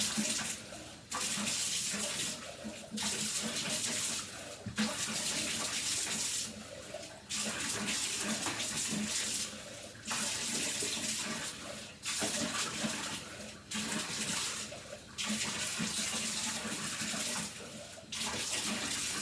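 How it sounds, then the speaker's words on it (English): Water poured from a cup to rinse out a bathtub, splashing in repeated bursts of roughly one to two seconds, separated by short pauses, close and fairly steady. "I've got my cup and I'm just gonna rinse, because there'll be extra hair, you know, in the tub"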